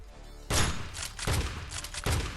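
Gunfire rings out in the mobile shooter Scarfall 2.0: three sharp, loud shots at roughly even intervals, each with a booming echo that fades before the next.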